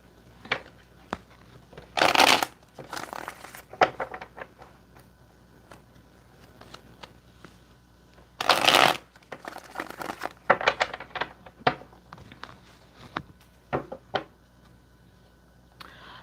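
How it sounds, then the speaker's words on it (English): Cards being shuffled up close in a few loud riffling bursts, with lighter taps and clicks of handling the deck between them. "I'm going to go ahead and start shuffling."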